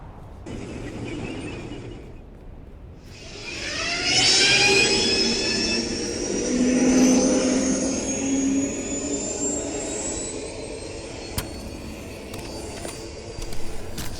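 An ornithopter in the video game Dune Awakening spools up and takes flight, a rising, loud whirring engine roar that swells and sustains with climbing tonal whine, alone without voices.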